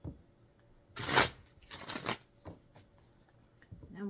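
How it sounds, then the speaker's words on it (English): Tarot cards shuffled up close in a quiet room: two short, crisp riffling bursts followed by soft card taps and handling. "We're going to go ahead and shuffle these ones up for the first week of August"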